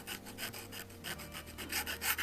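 A small hand file deburrs the edges of a Nikon Nikkor 35mm f/2 lens mount, giving quick, quiet, close rasping strokes in a steady back-and-forth rhythm.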